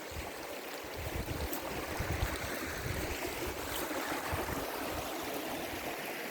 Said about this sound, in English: Really bonny little bit of the river.